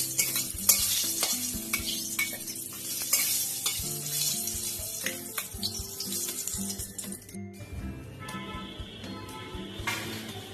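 Dried red chilies and whole spices crackle and sizzle in hot oil as a tempering for a light katla fish curry. Brisk stirring clatter and spatters sound close, over soft background music.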